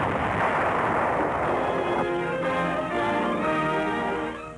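Dense, continuous roar of concentrated gunfire and artillery from the Iwo Jima battle, heavy booms blending into a rumbling barrage, loud and unbroken, with archival newsreel coloring.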